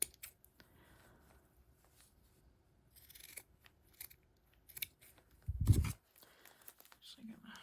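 Scissors snipping yarn braids on a handmade St Patrick's Day gnome craft, with quiet scattered clicks and one louder rustling cut near the end, faint and close, with soft speech around them.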